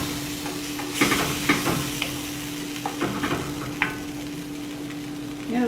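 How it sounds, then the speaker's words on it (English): Flour being stirred into a sauce in a pan on the stove, green bean casserole made from scratch: scraping spoon strokes and soft clinks against the pan over a steady low sizzle, with a brief voice near the end. "So add a little bit at a time and fully stir it."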